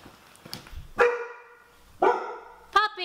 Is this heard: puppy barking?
yes